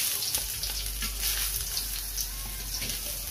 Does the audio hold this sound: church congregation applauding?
no